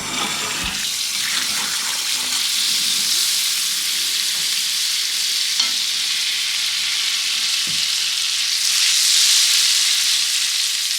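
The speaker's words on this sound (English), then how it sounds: "the fats are heated up, just to melt them" Fats sizzle and hiss steadily in a hot cast iron skillet on a cook stove, a continuous bright crackle that swells slightly near the end, with a few soft knocks.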